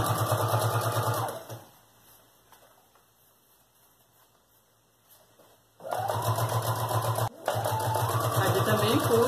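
Sewing machine stitching a children's backpack panel, running in a steady, loud, fast-whirring burst, pausing briefly, then starting again for a longer run, with a short remark spoken.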